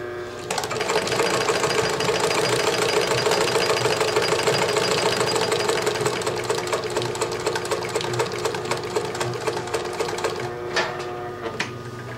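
A Singer 20U53 industrial sewing machine runs a zigzag stitch through four layers of marine-grade vinyl, a loud continuous rapid mechanical clatter for about eleven seconds before stopping, with no talking.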